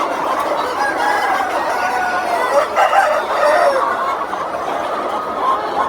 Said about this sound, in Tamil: அப்படியே கோழி நல்லா பாருங்க